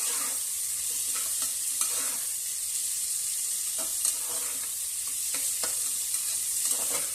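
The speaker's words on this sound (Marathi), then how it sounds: "गाजर, शिमला मिरची आणि वाटाणा, या भाज्या छान परतून घ्यायच्या।" Carrots, capsicum and peas stir-fry in a pan over medium heat for veg pulao, a steady close sizzle broken by repeated scraping stirs of the spoon.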